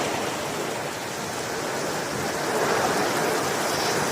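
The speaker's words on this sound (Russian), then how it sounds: "вот у нас Германия встречает ливнями" Heavy rain in Germany drums steadily over a moving car during a downpour, a dense, even broadband wash with no voices, holding level throughout.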